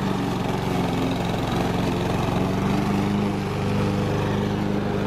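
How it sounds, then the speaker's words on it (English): A lawn mower runs steadily up close while cutting down garden grass, with a continuous loud engine drone and no talking. "So I'm gonna cut all the grass down"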